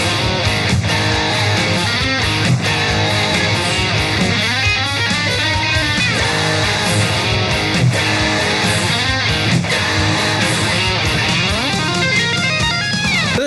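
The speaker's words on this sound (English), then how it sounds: "So that leads us into another play through the riff, which I'm going to call the pre-solo riff, and that sounds like this." Distorted electric guitar plays the pre-solo riff, a dense, loud, driving rhythm part of chugging palm-muted notes and chords that continues throughout, with no voices over it.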